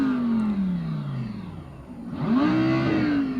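Audi R8 LMS GT3 race car at Donington in the iRacing sim, engine note falling as it lifts off, then surging upward again under throttle, smooth and loud with a faint whir.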